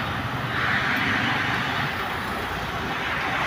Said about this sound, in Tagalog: malaking eroplano.